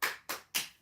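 Three crisp hand claps in an even, quick rhythm, close and fairly soft, each with a short decaying ring and nothing else around them.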